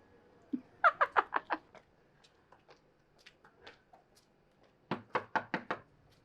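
Two bursts of rapid knocking on a door, about five sharp raps each, with a quiet gap of faint shuffling between them; close and fairly loud.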